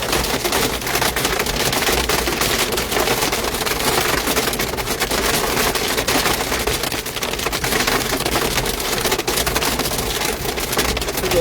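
Hail pelting a car during a severe thunderstorm in Broome County, Binghamton, New York, a dense, steady rattle of hard impacts on the body and glass lasting throughout, close and loud with no pauses.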